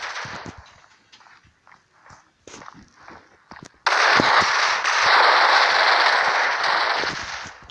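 A P90 submachine gun in a video game fires in short bursts at first, then lets loose one long continuous stream of rapid shots that loudly fills the second half.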